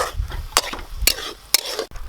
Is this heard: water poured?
no